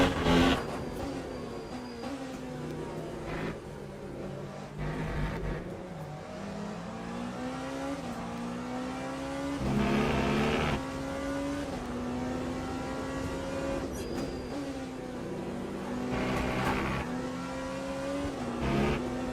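A race car in the endurance sim Le Mans Ultimate revving through gears with rising and falling engine tones, punctuated by several sharp exhaust backfire pops on lifts and downshifts, close and loud throughout.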